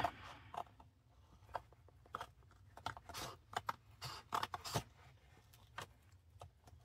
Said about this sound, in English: I think my cutter is starting to need a new blade. Well, we'll cut that off.